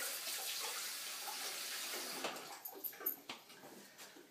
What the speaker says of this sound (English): Let me rinse off my hands real quick.